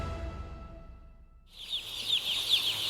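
After a brief quiet, a crowd of over 40,000 chicks bursts into constant high-pitched cheeping, close and dense, many peeps overlapping.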